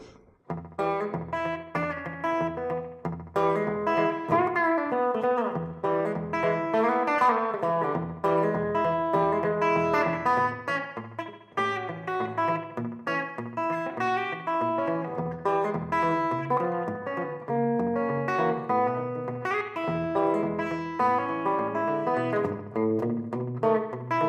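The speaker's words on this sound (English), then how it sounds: "So here we go with the 200 millisecond delay. This will give a quick slapback type of tone" An electric guitar runs through a Boss DD-7 digital delay pedal set to a 200 ms slapback echo, playing a steady rockabilly-style line with a quick doubled repeat on each note, loud and continuous, no talking.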